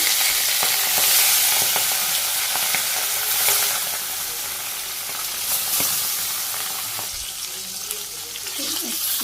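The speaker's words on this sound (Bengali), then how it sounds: "তেল একটু জিরে দিয়ে তেল গরম হয়ে গেছে মাছ দিয়ে দিই" Fish fries in hot oil with cumin seeds, a continuous loud hiss and crackle of sizzling close by with occasional faint clinks, steady across the whole stretch.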